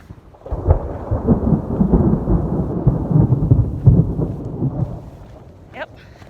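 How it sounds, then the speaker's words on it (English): A long, low rumble of thunder rolls on for several seconds on a mountain trail near Copper Mountain, Colorado, swelling and fading, with a faint brief noise near the end. "and we are starting to hear thunder."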